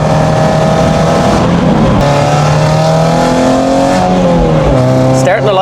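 A freshly rebuilt Toyota Altezza engine running in during break-in: a loud, close engine climbing through rising revs with gear changes and a brief tyre squeal near the end, while people talk over it.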